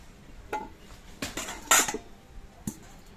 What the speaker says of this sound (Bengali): এবার ঢাকনাটা খুলে দিচ্ছি। একটা কচু তুললে দেখছি সেদ্ধ হয়েছে কিনা।